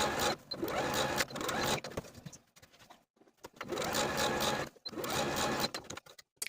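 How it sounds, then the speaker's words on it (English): A sewing machine runs a long basting stitch along a dress sleeve in two steady bursts of rapid mechanical chatter, stopping briefly between runs, close and fairly loud with no talk. "take each sleeve to the sewing machine and sew basting stitches from notch to notch using the longest stitch on your machine"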